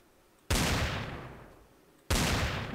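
Two sharp revolver shots from a Minecraft weapon mod ring out about a second and a half apart, each a loud sudden crack followed by a long fading echo, with no talking.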